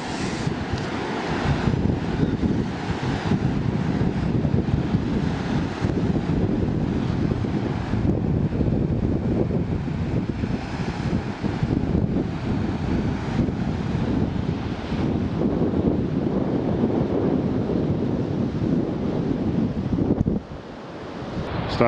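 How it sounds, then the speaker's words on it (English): Steady, strong wind on a cold beach roars and buffets the microphone for the whole stretch, with a low rumble of surf beneath it and no voices. "It's a windy, cold day."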